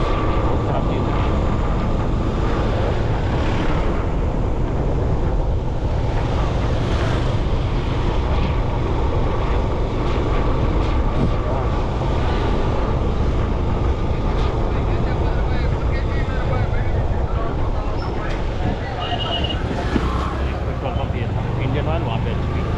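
A motorbike rides through busy Bangalore streets in the evening, with a continuous engine drone and wind rush under traffic noise and someone talking over it throughout.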